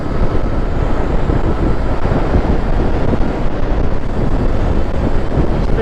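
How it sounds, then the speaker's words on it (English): Wind roars into the microphone of an electric bike upgraded with a BAC 2000 ASI controller and a 60v 63ah battery, as it rides into a headwind at speed. The buffeting is loud and dense throughout, with no voice heard. "Oh, wind right in my face."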